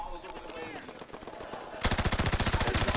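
MG42 machine gun in Call of Duty: WWII, a very rapid, dense stream of shots that starts abruptly and keeps hammering loud and steady after quieter game sounds.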